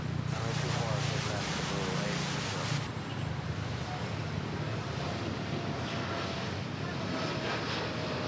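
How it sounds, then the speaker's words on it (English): A Thai Airways Boeing 787-9 Dreamliner takes off at Manila Airport with a loud, broad jet-engine roar that holds steady and rushes like wind, while a voice talks over it. "the Thai Airways Dreamliner 787-900, also known as the Purple Princess. It's a smooth takeoff"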